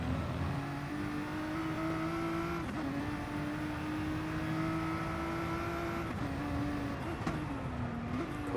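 GT and Porsche race cars in a multiclass endurance race at Bathurst, heard as a continuous engine drone with several downshifts and pitch drops under braking, then revs climbing back up, close and steady.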